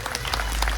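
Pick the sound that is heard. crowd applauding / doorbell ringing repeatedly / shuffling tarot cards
crowd applauding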